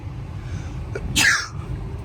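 One sharp sneeze bursts out close by after a short intake of breath, standing out over a low background rumble inside a 2009 Volkswagen Golf VI 1.4 TSI.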